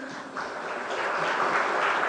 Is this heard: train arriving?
no